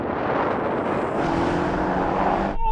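A Porsche Panamera Turismo and an AMG E63 S drag race, with a loud sustained engine roar under hard acceleration that rises steadily before cutting off abruptly.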